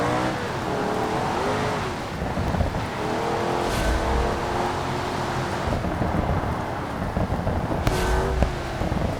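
A car with slick tires struggles for grip on a rain-soaked road in the BeamNG driving game: a steady engine drone under hissing tire spin and rain, with occasional sharp bursts, continuous and fairly loud.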